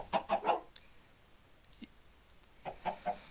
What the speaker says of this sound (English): And finally, chickens. You have your normal vanilla chicken, which lays an egg every 5 minutes